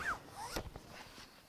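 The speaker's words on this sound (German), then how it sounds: "Und zwar ist er mit so einem Schieber zu öffnen und zu schließen und komplett wasserdicht." An Ortlieb Bike-Shopper QL2.1 waterproof PVC-free bike bag's Quick-Seal slider closure being worked, a close, quiet zipper-like rasp with a short sliding scrape and soft handling rustle.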